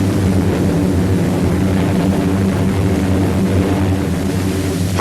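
WWII American Air Force bombers over the Central Pacific drone steadily with a loud, low, throbbing propeller-engine hum that stays continuous and even throughout, with no voices.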